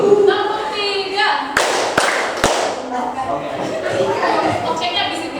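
A seminar audience gives a few sharp, separate claps on cue between spoken prompts, followed by murmuring chatter and light laughter.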